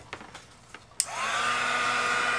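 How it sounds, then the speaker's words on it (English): A heat tool switches on with a sharp click after a few faint taps, then blows a steady, loud whine and rush of hot air while setting embossing powder over a brass stencil. "now I'm going to heat set this one."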